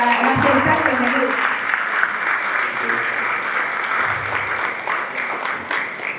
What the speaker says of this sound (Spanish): Otra vez un fuerte aplauso a Máster Isaac.